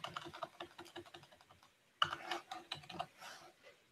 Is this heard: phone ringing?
no